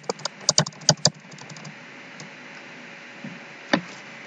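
Keys on a computer keyboard are typed in a quick burst of sharp clicks near the start, then fall quiet apart from a single firm keystroke later, heard close and alone.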